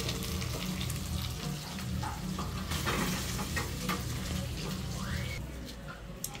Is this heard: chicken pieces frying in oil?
yes